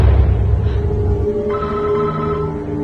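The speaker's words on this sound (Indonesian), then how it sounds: "Tess pun kaget karena mendengar dering ponsel di kamar tersebut" A mobile phone rings in a room, a steady electronic ringtone with sustained tonal pulses starting partway through, heard over a low rumble at moderate loudness.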